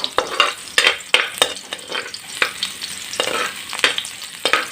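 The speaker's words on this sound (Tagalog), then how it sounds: "Gisahin muna natin yung ating mga ricado para maging mabango yung ating luto." Aromatics (ricado) sautéing in a pan while being stirred, giving a continuous crackling sizzle broken by repeated scraping strokes of a spatula, loud and close with no voices.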